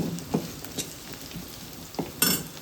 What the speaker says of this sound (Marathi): तर कांद्यामध्ये हा अख्खा मसाला घालायचा आहे.